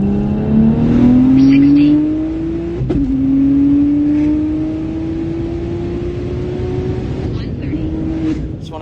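A BMW 335xi with the N54 engine revs up and holds a steady climbing drone, with a sharp blip early on and a gradual rising pitch before easing off near the end, loud and close.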